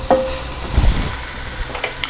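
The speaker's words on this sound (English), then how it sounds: "So the beef started to brown now, nicely on all sides." Beef browning in a pan with tomato puree sizzles under stirring, with a scrape of the utensil and a soft, steady frying hiss close by.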